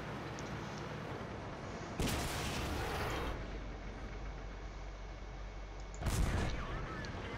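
Artillery shells in the tank game World of Tanks land as two heavy booming blasts about four seconds apart over a constant dense battle rumble.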